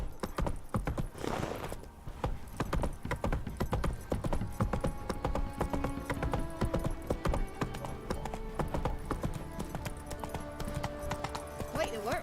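Roach the horse in The Witcher 3 clip-clops steadily and close by, a continuous brisk hoof rhythm with game music and ambience underneath.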